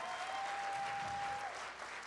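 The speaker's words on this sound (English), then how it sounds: "give them a huge round of applause because they did everything." Crowd applause rings out at a politics panel event, a brief, even wash of clapping from the audience with a thin steady tone briefly sounding above it before it fades.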